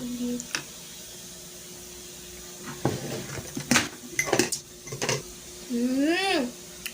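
A spoon clinks and scrapes against a bowl while rice, roasted seaweed, mayonnaise and tuna are mixed, in a burst of irregular knocks and scrapes at close range, followed by a brief rising vocal sound near the end.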